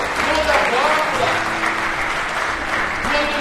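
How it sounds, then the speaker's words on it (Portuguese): A church congregation applauds steadily during a sermon, dense sustained clapping filling the room with a voice faintly present beneath it. "levanta a mão e dá uma aplauso"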